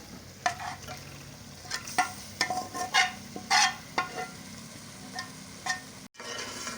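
Chicken tikka tipped into hot masala and stirred, giving a series of scraping spoon strokes and bursts of sizzling frying, close and fairly loud, with no talking.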